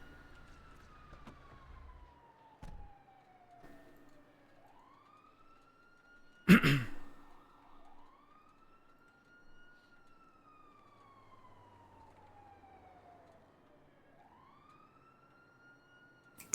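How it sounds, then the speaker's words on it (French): A video game ambulance siren wails in long rising and falling sweeps, fairly faint and distant, with a sharp knock in the middle and no talking. "c'est une ambulance, ouais, c'est pas les flics."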